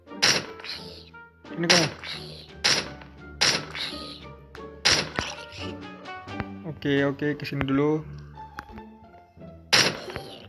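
Sharp, punchy gunshots fire in bursts at a zombie in Minecraft Pocket Edition, with someone talking in Indonesian in between.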